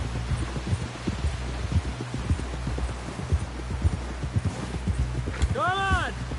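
Horse hooves clip-clop in a steady, close rhythm in Red Dead Redemption 2, joined near the end by a whinny and with rain-like patter in the background. A voice talks over the hooves.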